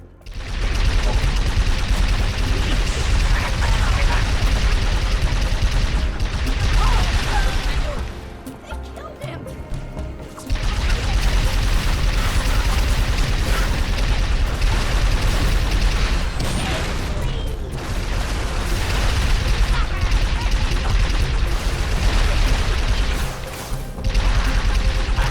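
Loud, dense bursts of plasma cannon fire in Halo 3 with booming crashes, nearly continuous with a brief lull midway.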